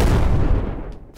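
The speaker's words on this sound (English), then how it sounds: "Let's throw a grenade." A grenade explodes in the WW2: Bunker Simulator video game, a loud, heavy boom that starts at full force and rumbles away over about a second, with no talking over it.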